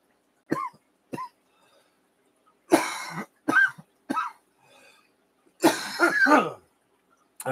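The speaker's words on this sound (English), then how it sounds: "I'm gonna stand here and cough for a few minutes" A person coughs repeatedly after taking a big hit, with several harsh, raspy bursts separated by short pauses and a longer rough fit near the end, close and loud with no talking.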